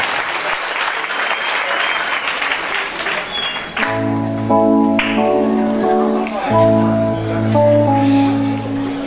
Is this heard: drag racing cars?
no